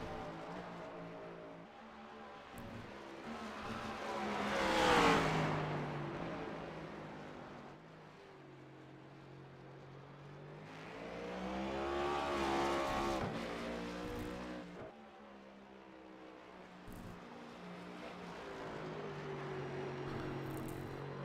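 Race car engines roar past in a sim racing game at Sonoma Raceway, rising and falling as several cars sweep by at intervals with revving and gear changes, fairly faint overall and free of talk.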